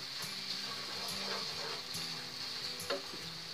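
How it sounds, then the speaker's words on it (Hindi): Coriander and cumin powder spices roasting in a pan for aloo gobhi, giving a soft, steady sizzle with light clicks and scrapes of stirring, close and fairly quiet. "धनिया पाउडर मसालों को अच्छे से भून लेंगे भुना हुआ जीरा पाउडर भी ऐड कर देंगे"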